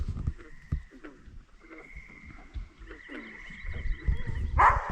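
A sled dog named Kato barks at a beaver near the shore of a pond, several short barks spread across the moment, moderately distant, with a faint background tone and rustling, then a sharper burst at the end.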